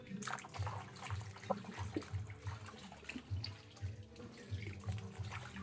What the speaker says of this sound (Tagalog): Tapos yung okra naman ang hugasan natin.